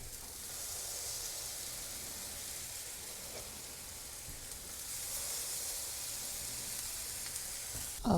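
Butter sizzles steadily in a pan over medium heat, a continuous bright frying hiss that holds at an even level from start to finish, with a brief louder clatter at the very end.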